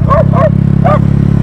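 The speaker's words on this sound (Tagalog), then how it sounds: "may aso." Three quick dog barks ring out over the loud, pulsing engine drone of a Mio Sporty.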